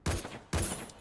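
Two sharp bursts of gunfire from a video game shooter, each a loud crack followed by a decaying tail, spaced about half a second apart, with no talk over them.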